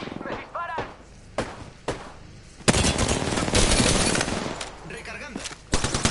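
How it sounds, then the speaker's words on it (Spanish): Video game gunfire crackles in bursts, loud and close, with sharp shots early on and then a dense sustained volley under a raised voice. "¡Me disparan!"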